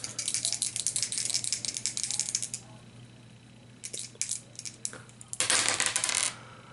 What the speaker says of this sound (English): Let's go ahead and roll both dice.